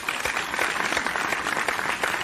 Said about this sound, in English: A round of applause for Mr. T as we open the doors for a commercial break.